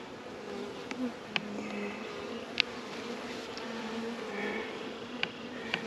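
A honey bee swarm buzzes steadily around a heavy hive frame pulled from the box, with a dense droning hum, scattered individual bees passing close, and a few faint clicks.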